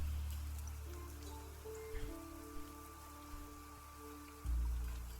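Steady rain falls in the survival video game Niche, a continuous broadband hiss with soft low rumble, joined by faint tonal game music and a few small taps, swelling louder near the end.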